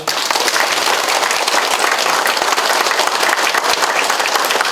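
Dense, sustained applause from a large audience at a city mayor's New Year visit to a township office, steady and loud throughout with no talking.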